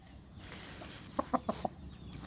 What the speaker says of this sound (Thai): ไก่ลูกแซมนะครับ แซมเต็มแล้วนะครับ ไก่ลอยสองเก้าสามโลนะครับพม่า